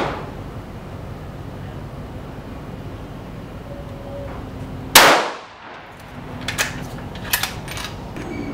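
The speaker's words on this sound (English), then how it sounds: "So let's start with a couple of fouling shots." A single sharp, loud shot from a Savage 11VT .308 rifle fired from a bench as a fouling round, then a few lighter metallic clinks over steady outdoor background noise.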